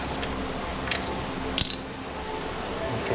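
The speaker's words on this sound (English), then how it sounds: "Now we'll tighten this bad boy up." Short, faint ratcheting clicks from a hand tool tightening the bolts on IMS adventure motorcycle footpegs, a few sparse clicks and one slightly louder metallic rattle against a steady low background.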